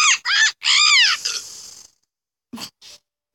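A cartoonish bird in the video game Porta Pilots squawks in a few quick, sweeping, warbling calls close up, followed by silence and two short, soft squawk-like bursts.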